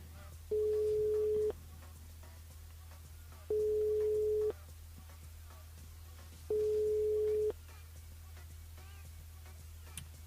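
A telephone line tone rings out in three evenly spaced, clear beeps, each about a second long, over a low steady hum, as a radio host calls a listener; no talk over the tones.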